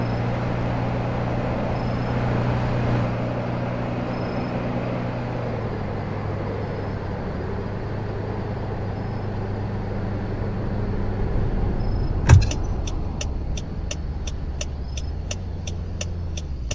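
Small hatchback car driving in the Roblox game, a steady engine hum that shifts pitch as it speeds up, followed by a sharp thump and then a repeating electronic ticking.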